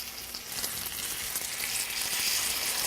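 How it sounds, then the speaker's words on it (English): Pineapple slices sizzling in a brown sugar and butter mixture in a pan, a steady bright frying hiss that grows slightly louder, close up with no talking. "in my brown sugar and butter mixture. And they're already beginning to caramelize."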